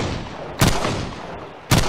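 Two sharp single gunshots from a Minecraft guns mod, about a second apart, loud and punchy over a steady background hiss.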